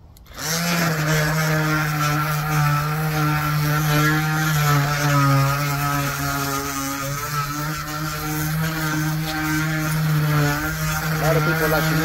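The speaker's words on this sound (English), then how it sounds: "little palm sander, just go to town on it" A small orbital palm sander running on scrap 2x10 lumber for a barn wood style shelf, a loud, close, steady motor whine with a fixed buzzing hum that starts abruptly and carries on throughout.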